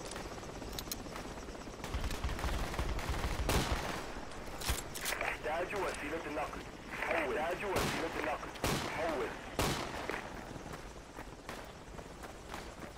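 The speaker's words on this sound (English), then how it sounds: "He's shooting. He's shooting north of us." Gunfire in Battlefield 2 Project Reality on Bijar Canyons: repeated sharp shots and short bursts, some near and some distant, mixed with footsteps and radio chatter.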